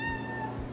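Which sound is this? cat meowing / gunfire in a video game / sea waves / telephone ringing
cat meowing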